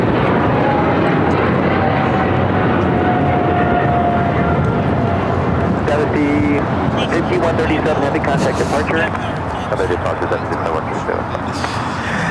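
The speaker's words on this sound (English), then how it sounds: "This is China Airlines cargo 5137 taking off to Taipei on the 777 freighter." A China Airlines cargo Boeing 777 freighter takes off from LAX bound for Taipei, its loud jet roar filling the scene with a rising whine early on and rumbling steadily throughout, with voices talking over it.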